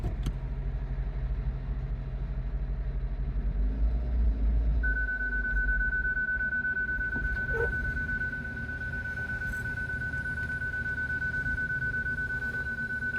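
A 2016 Hyundai Sonata Hybrid with a faulty hybrid battery system is given gas but struggles to move, its engine producing a low, steady rumble with a surge early on, then a high whine alongside the idle.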